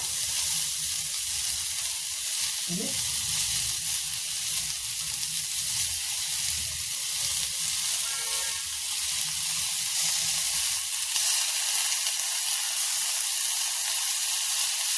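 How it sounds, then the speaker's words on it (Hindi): Steady close sizzling of a bean seed and potato curry frying in a pan as tomato goes in, a continuous hiss with a faint scrape or two, no voices. "आलू थोड़ा देर में पकती है, इसलिए हम इसमें अब टमाटर ऐड कर देंगे"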